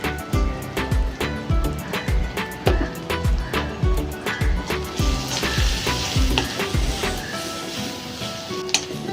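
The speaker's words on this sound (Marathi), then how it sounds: "मसाले चांगले परतून झाले आहेत." Spices with homemade garam masala, chili powder and a pinch of asafoetida fry in a hot pan, loud rhythmic stirring scrapes and knocks repeating about twice a second over a constant sizzle, close up and without talk.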